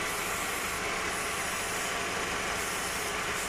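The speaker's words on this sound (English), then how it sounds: "The engine just idles exactly the same." A gasoline engine idles steadily and evenly during a vacuum-leak check with sprays around the throttle body and connectors, a continuous close, mid-level mechanical hum with no change in pitch.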